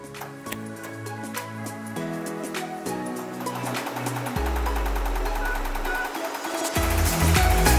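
An embroidery machine stitching a design onto caps, a loud, continuous, rapid mechanical chatter whose pitch and low thump shift several times and grow heavier toward the end.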